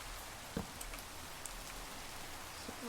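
Rain falls steadily in a Minecraft modpack video game, a soft, even hiss of drops with a couple of faint taps, quiet and alone with no voices.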